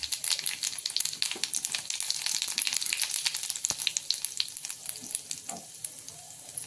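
Mustard seeds and a little cumin crackle and sizzle in hot oil over a low gas flame, a dense run of sharp pops and spitting close by, with no speech.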